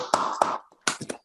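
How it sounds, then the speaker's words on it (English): Scattered, thin clapping over Zoom call microphones during an online debate, a few uneven claps in two short bursts with a brief gap, close and slightly clipped. "everybody turns on the microphone and do the pathetic Zoom clap"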